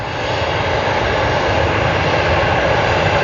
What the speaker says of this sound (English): That's Airbus A330-200